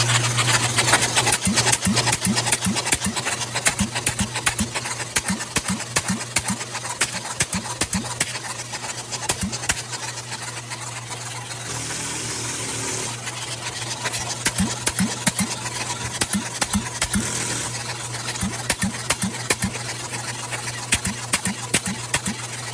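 A freshly rebuilt 396 big block V8 runs steadily at close range, drawing about 11 amps with 87 pounds of oil pressure, its idle a dense, continuous mechanical churn with rapid ticking and no gaps for the whole stretch.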